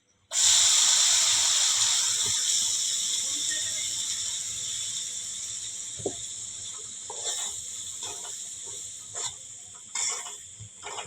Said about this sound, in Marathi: अशा प्रकारे तेलात चांगल्या तळून घेतले एक दोन ते तीन मिनटं चांगलं तळून घ्यायचं ते तेलामध्ये